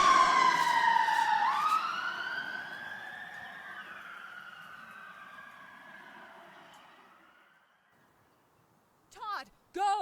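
An ambulance siren in a video game wails in a loud, sweeping rise and fall, then fades away over several seconds, followed by a brief voice at the end.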